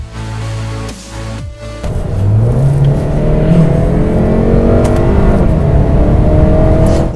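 A 2016 Lexus RC 200t F Sport accelerates hard, its engine rising from a low idle into a loud, steady climbing drone heard from inside the car with no talk.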